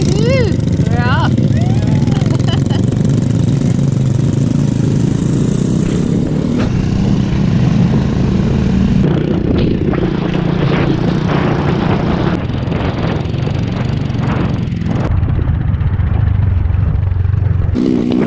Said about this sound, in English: We had to take these motorbike scooters on a really gnarly track.